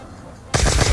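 Ray Gun Mark II firing in Call of Duty: Black Ops 2 Zombies, a loud sustained burst of rapid energy-weapon shots that starts abruptly after a quiet lead-in and runs to the end.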